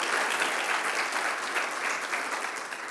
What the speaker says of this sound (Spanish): ¿No crees que el Señor merezca un aplauso por eso también?